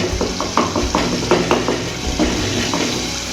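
Tomato masala fries in oil in a pan while a spoon stirs it, giving a steady sizzle broken by several sharp scraping and clinking strokes of the spoon against the metal.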